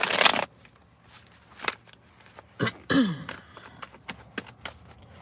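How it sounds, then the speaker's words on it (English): Quick papery riffles and soft card slaps, a few bursts of shuffling separated by brief pauses and light handling noises. "One more shuffle."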